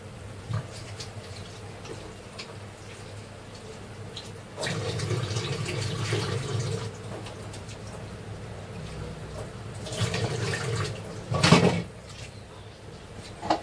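Water is poured into a cooking pot to rinse out leftover masala, a gentle splashing stream that swells in a few bursts, with scraping and a clink near the end.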